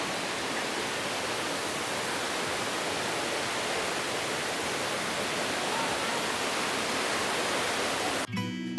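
Thác Mây waterfall in Thanh Hoá pours steadily as a dense, even rushing roar, close and continuous, with no voices.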